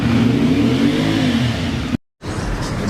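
A 2024 CFMoto 450 MT motorcycle engine, new and in its break-in period, revs steadily at close range with a strong, even drone, then cuts out abruptly for a moment before the engine sound resumes.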